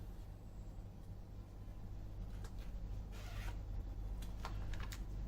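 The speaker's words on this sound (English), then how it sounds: "Let's open the top zip here." The zip on the case of a Dreamsourcelab USB 32-channel logic analyser is pulled open. It makes a few short, soft rasping bursts over a steady low hum, with no talk.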